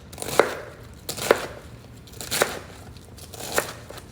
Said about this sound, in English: you just want to get a good bite-sized piece when you're chopping up your cabbage